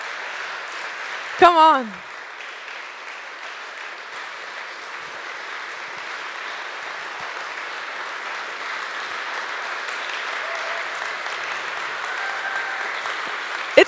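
Audience applause at a TEDx university event, a broad steady wash of clapping sustained throughout, with a brief spoken exclamation near the start over the clapping.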